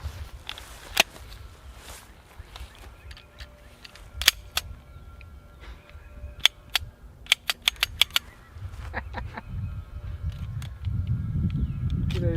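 Several sharp gunshots from a 9mm 1911-style pistol at an outdoor range, firing in a loose group of quick reports with other scattered bangs around them, set against steady background noise.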